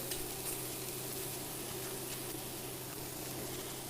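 Lamb pieces sear in a hot pan with a steady, faint, even sizzle and crackle throughout, close by and with no talking.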